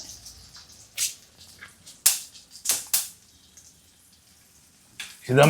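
Urad dal dropped into hot coconut oil in a pan for a tomato curry gives sparse, sharp crackles and pops close by, a few distinct bursts spread over a few seconds, ending in a louder sizzle.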